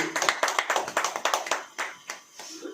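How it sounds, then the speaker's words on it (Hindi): An audience at a Hindi church sermon claps hands in a quick, steady run of sharp, close claps that thin out into a few scattered claps near the end. "ताली बजाएं।"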